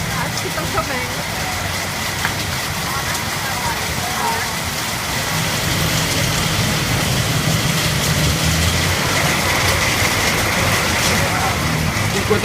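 Steady rain pattering on surfaces in Bangkok, a dense continuous hiss with traffic rumble underneath and voices talking in the background.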